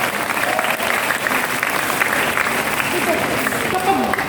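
A church congregation claps steadily and loudly at a gathering, dense continuous applause filling the space with crowd noise underneath.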